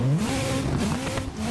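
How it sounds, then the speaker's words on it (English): A Nissan GT-R engine revs in a racing video game, a brief rising and wavering whine with tonal harmonics climbing through the pitch, close and moderately loud with no talk. "My dad has a GTR!"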